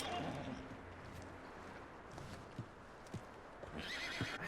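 A horse whinnies near the start in Red Dead Redemption 2, then hooves clop in scattered steps over a faint outdoor ambience, fairly quiet.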